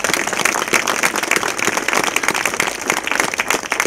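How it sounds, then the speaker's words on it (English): An audience at a City of Albuquerque news conference gives a sustained round of dense, steady clapping that fills the room at fairly close range, with no talking over it. "Let's give them a big round of applause."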